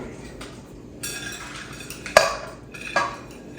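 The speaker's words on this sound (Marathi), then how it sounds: "हा जो गुळ आहे ना तुपामध्ये छान मिक्स झाला पाहिजे" A metal spoon clinks against a bowl while jaggery is stirred into ghee for wheat-flour cookies, giving a few sharp taps and a scraping clatter at close range.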